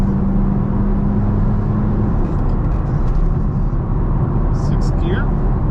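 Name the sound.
Ferrari F430 with manual transmission driving, shifting gears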